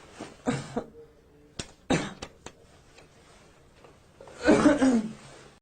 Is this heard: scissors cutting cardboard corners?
no